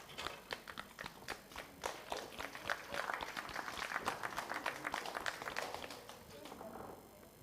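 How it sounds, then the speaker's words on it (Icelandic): Dense, steady applause from the audience at an Icelandic classic powerlifting championship meet after a successful lift, many hands clapping briskly and fairly close, holding for several seconds before thinning slightly at the end. "gefum honum klapp"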